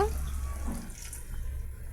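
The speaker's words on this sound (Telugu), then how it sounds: "ఒక హాఫ్ గ్లాస్ వాటర్ యాడ్ చేసామండి" Half a glass of water is poured into a vegetable curry being mixed in a container, giving a soft splashing trickle that fades quickly into a quiet kitchen background.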